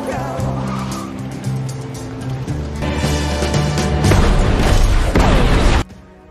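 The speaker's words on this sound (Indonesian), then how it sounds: "ada satu mobil yang tak lihat arah menabrak rombongan tentara" A car in a zombie action film skids with squealing tires and smashes into a soldiers' convoy: loud, continuous engine roar and tire screech building into a heavy crash and scraping debris, then an abrupt cut to near silence.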